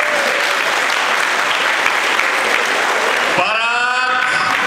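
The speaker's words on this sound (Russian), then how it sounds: "Аплодисменты!" Dense, steady audience applause fills a hall at a traditional boxing tournament held for Kingisepp City Day, then cuts off abruptly and gives way to a sustained tonal sound.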